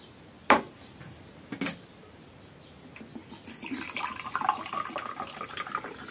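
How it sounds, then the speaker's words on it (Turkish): Vinegar pours into glass jars, a couple of sharp clinks of glass followed by a thin, trickling stream of liquid filling the container, close and fairly quiet. "Şöyle kenarından döküyoruz."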